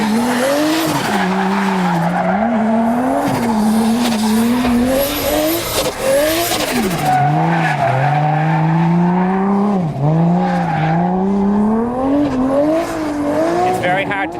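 A drift car at Santa Pod howls through a long slide, its engine note rising and falling as the tires squeal continuously, loud and close throughout, with an upshift toward third gear in an old-school gearbox.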